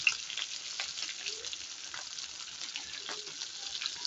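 Shrimp paste (alamang) fries in a pan with a low, continuous sizzle and soft stirring scrapes, fairly quiet and with no talk over it.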